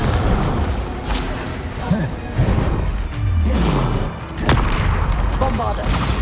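A Confringo fire-blast spell erupts in the Hogwarts Legacy video game amid repeated loud booms, crashes and whooshing blasts of combat, dense and continuous over several seconds.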